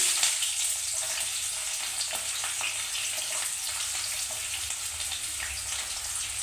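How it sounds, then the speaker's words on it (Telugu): Chopped onions frying in a pan with cinnamon, cloves and cardamom for a chicken curry, giving a steady, close, even sizzle that hisses continuously with no talk. "ఇప్పుడు మనం ఆల్రెడీ కట్ చేసి పెట్టుకున్న ఉల్లిపాయలు అయితే వేసుకున్నాము"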